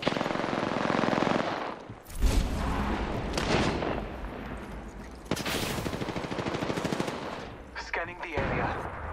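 Loud bursts of automatic gunfire in the battle royale shooter Apex Legends, rapid rattling volleys with heavy booming shots, close and intense, broken by short pauses and a brief voice line.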